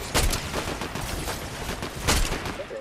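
Video game gunfire from AI enemies, a dense run of shots with two louder bursts standing out against steady background game noise, no talking.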